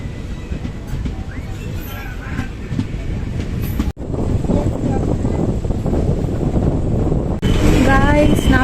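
Passenger train pulling away from Sivadi station, a loud continuous rumble and rattle of the carriages heard from on board, with wind noise and a voice talking over it.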